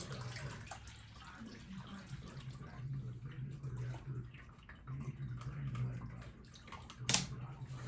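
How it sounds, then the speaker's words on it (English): Water is poured steadily into a cat's drinking fountain, a continuous splashing trickle over a low hum, ending with a brief sharp clink. "the cat's water fountain that they drink from is running low, so I'm gonna pour it in there for them"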